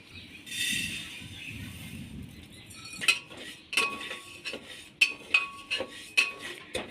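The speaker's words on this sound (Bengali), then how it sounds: "এবার 100 গ্রাম যে মুগ ডাল আমি নিয়েছিলাম, এবার ওটা হালকা ভেজে নেব।" Moong dal is stirred while being lightly fried in a pressure cooker, with a soft hiss early on and then a series of sharp metallic clinks and scrapes of a spoon against the cooker. The sounds are close and fairly quiet.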